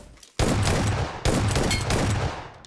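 Two loud, close shotgun blasts in the mobile game PUBG Mobile, each a sharp crack followed by a long rumbling decay.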